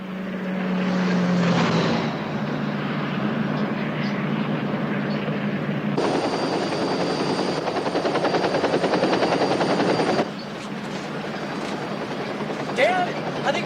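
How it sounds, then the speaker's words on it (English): A big helicopter follows a car through city streets, its steady rotor and engine roar continuous and loud throughout, mixed with traffic and vehicle noise, with tense dramatic music and a brief tonal squeal near the end. "I think there's a big chopper following us"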